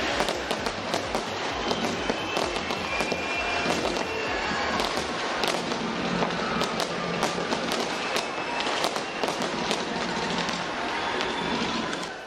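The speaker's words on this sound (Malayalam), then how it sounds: "ന്യൂസിലാൻഡിലെ അക്ലാൻഡ് നഗരം വർണ്ണാഭമായ വെടിക്കെട്ടുകളോടുകൂടിയാണ് പുതുവർഷത്തെ സ്വാഗതം ചെയ്തത്." New Year fireworks over Auckland, New Zealand, a dense continuous barrage of crackling bursts and booming thuds heard from a distance, with a faint crowd murmur beneath.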